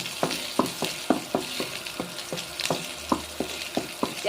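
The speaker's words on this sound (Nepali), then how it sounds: "चप गरेको लसुन राखेँ यसलाई अलिक रातो हुनुखेर फ्राई गर्नु दिनु पऱ्यो अलिअलि चलाइ पनि दिनु पऱ्यो" Chopped garlic frying in a little oil while being stirred, with a steady run of quick spatula scrapes and taps over a continuous sizzle, close and fairly loud, no talking.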